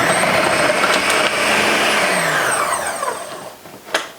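A food processor whirring loudly as its slicing disc cuts zucchini, a high motor whine that winds down after about three seconds, then a brief clatter as it stops.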